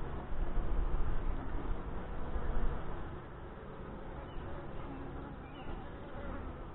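Honey bees from a Saskatraz package colony buzz in a dense, continuous close drone as a new beekeeper opens and inspects the hive three weeks after installation, loud at first and easing slightly later.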